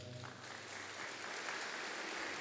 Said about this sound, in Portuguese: Dá uma salva de palmas para meu pai.